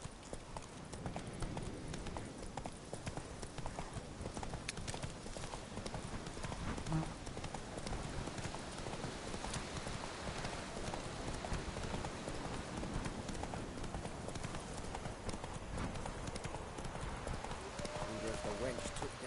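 Horse hooves clip-clop steadily through a PS4 video game, a continuous rhythmic trotting patter at moderate volume with no voices over it.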